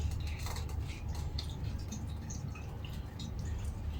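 White wine vinegar goes into a pan of tender cooked onions, giving a soft drip and light sizzle over steady cooking hiss, with a few faint clinks of utensils.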